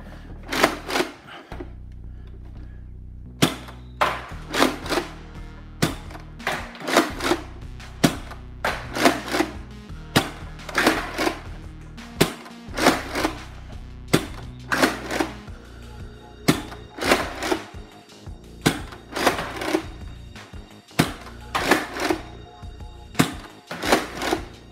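A Nerf Judge blaster fires darts in a rapid string of sharp, loud snapping shots, some single and some in quick bursts, with mechanical clacks between them and no talking.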